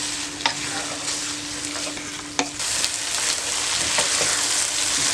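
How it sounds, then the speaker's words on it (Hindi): Dal sizzles steadily in a hot karahi while a spoon stirs it, with a few sharp scrapes and clacks of the spoon against the metal standing out over the continuous frying hiss. "पाँच मिनट के लिए मैंने दाल को मज़ीद फ्राई किया"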